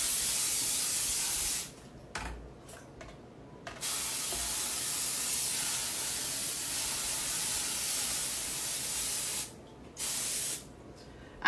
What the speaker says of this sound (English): Now, let me spray my pan here.